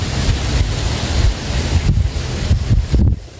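Strong wind roars outdoors in the cold, buffeting the microphone with loud, gusty rumbling that rises and falls for several seconds before dropping off abruptly at the end.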